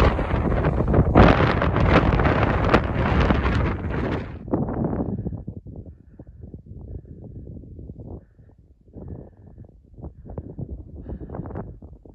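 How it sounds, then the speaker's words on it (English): Wind gusts buffet the microphone on a snowy mountain slope near a crevasse in the Chugach backcountry, loud roaring blasts at first, then weaker, intermittent rushes that fade and return. "Windy now."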